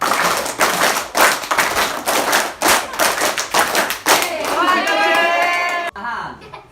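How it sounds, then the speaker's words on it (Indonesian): Group of children in a Ramadan storytelling games session clapping in unison in repeated rhythmic bursts, sharp close claps and taps, followed by excited children's voices shouting together before a sudden cutoff. "Oke, minta tepuk 5-nya 3 kali"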